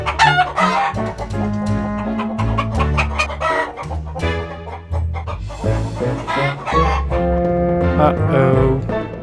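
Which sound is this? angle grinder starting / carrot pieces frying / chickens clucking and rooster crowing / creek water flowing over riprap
chickens clucking and rooster crowing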